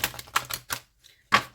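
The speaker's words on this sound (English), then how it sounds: "We'll shuffle out from this deck here." Playing cards shuffled from a deck during a tarot-style reading, heard as short bursts of riffling flutter separated by brief pauses, fairly close and alone without talk.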